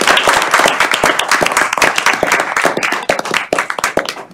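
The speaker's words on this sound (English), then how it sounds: "I want you all to give her another round of applause" A crowd at a state school board meeting gives a round of applause, loud and close, with dense overlapping claps that thin out toward the end.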